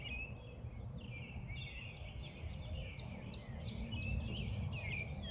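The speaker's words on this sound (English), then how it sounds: "Some birds over here, some flying, some on the ground." Birds chirping on a neighborhood morning, a run of quick repeated high chirps and tweets at moderate distance over a low outdoor rumble.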